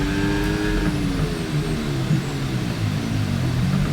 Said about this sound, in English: Just get the car stopped.